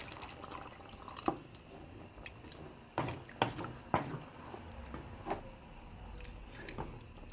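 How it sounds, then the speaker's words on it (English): About half a cup of water is poured into a pot of bean chili, giving scattered drips, splashes and soft wet squishes at irregular intervals, a few louder spatters standing out against a quiet kitchen background. "we're going to add about a 1/2 cup of water"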